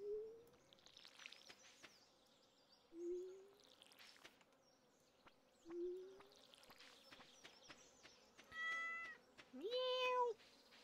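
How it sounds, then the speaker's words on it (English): Cat meowing in the Stardew Valley video game: several short, rising meows spaced a few seconds apart, then a quicker pair near the end, over soft game ambience of buzzing insects. "Meow."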